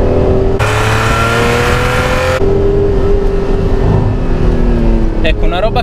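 A Ferrari Testarossa engine roars in a loud, sustained rev, the pitch rising and dipping under an Italian voice talking close by.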